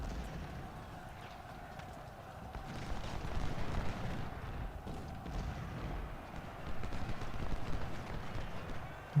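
Cavalry horses galloping across a Civil War battlefield in Ultimate General: Civil War, a dense rumble of many hooves at a steady distance, swelling and fading with scattered gunfire-like thumps mixed in.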